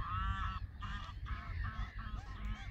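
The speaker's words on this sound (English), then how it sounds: "Might be able to see some of the birds" Geese calling at an estuary at Cliffe near Rochester: a steady run of overlapping nasal honks, several birds at once, fairly close and continuous over a low rumble of wind.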